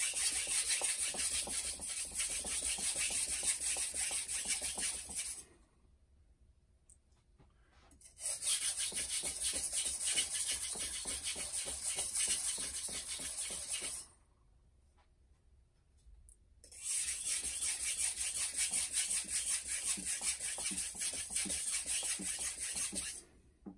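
A wide-bevel Japanese knife is worked back and forth on a 400 grit whetstone, giving three long, steady stretches of close, gritty rasping separated by two brief pauses.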